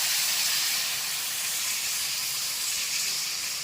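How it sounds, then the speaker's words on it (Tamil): A steady, loud hiss of steam and bubbling from a pot of egg curry on the boil, continuous with no talking. "நல்லா குழம்பு நல்லா கொதிக்கணும்"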